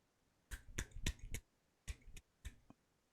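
Seven or eight sharp, dry slaps from an attempted one-handed clap come close and quiet in two quick bursts, first a cluster of four, then a pause and a looser three, with no talk.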